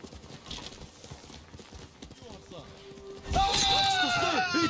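Horse hooves clip-clop in the samurai video game Ghost of Tsushima, first faint under speech, then a loud, close rhythmic gallop with a whinny after the horse is called.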